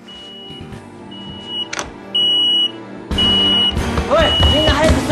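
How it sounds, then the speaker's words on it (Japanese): A residential smoke alarm in a home kitchen sounds in repeated shrill electronic beeps, coming in bursts against indoor background noise. "なんか警報器が鳴ってるような音がするな。"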